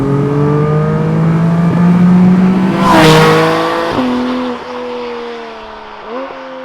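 A Porsche Boxster engine revs hard toward its 8,000 RPM redline, a rising harmonic howl with quick gear-shift drops and a burst of noise midway, loud and close, then easing.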